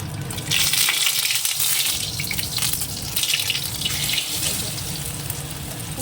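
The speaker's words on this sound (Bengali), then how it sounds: "এইভাবে করে একটা একটা করে সবগুলো ভেজে নেবো" Green chillies frying in a pan, a steady, moderately loud hiss and sizzle with splattering crackle that runs unbroken for several seconds, no talking.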